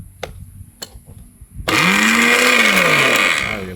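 A newly bought electric blender starts abruptly after a few light clicks and handling taps, then runs loud and steady with a whirring motor whine that rises and dips slightly.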